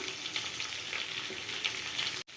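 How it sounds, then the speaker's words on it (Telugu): Green chilies fry in hot tempered oil with a dense, even sizzle close to the pan, steady throughout before a sudden brief break near the end. "పోపు వేగిన తర్వాత ఇవి కట్ చేసుకుని పచ్చిమిర్చి వేసుకోవాలండి. ఇవి కొంచెం ఫ్రై అవ్వాలండి."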